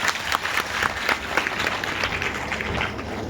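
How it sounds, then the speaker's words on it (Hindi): Villagers gathered for a religious Bhagavat katha give a round of welcoming applause, a steady mass of hand claps with some louder bursts, moderately loud throughout and without speech over it. "इनके लिए एक बार सब लोग ताली बजा के स्वागत कर दें"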